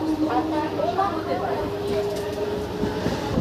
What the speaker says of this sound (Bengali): আমাদের ট্রেন চলে আসলো এখন কোন্নগর রেলওয়ে স্টেশনে